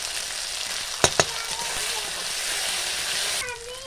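Spice paste of salt, turmeric and chilli powder frying in oil for village-style tel koi fish: a dense, close, continuous sizzle with two sharp clicks of a utensil early on, cutting off abruptly near the end.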